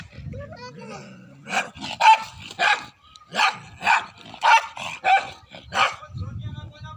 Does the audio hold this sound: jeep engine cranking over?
no